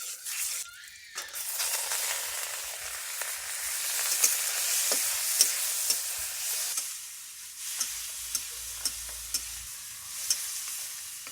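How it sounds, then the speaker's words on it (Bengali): Shrimp sizzle and crackle steadily as they fry in oil in a hot wok, with a constant hiss and a few sharp pops and clinks near the end. "কড়াই গরম হয়ে গেছে, তেল দিয়ে চিংড়ি মাছটা এখন ভেজে নেব।"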